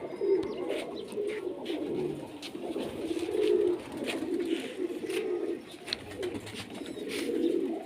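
Pigeons coo repeatedly in a loft kept by a pigeon fancier, soft throaty coos overlapping in a steady rhythm, with faint chirps and light background noise.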